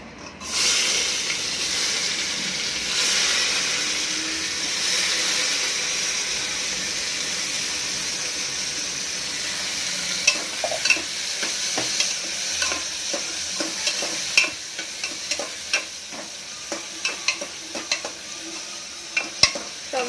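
Tomatoes sauté in hot oil in a pan for Mumbai-style pav bhaji, a steady loud sizzle with intermittent scraping stirs and spoon taps that grow more frequent toward the end.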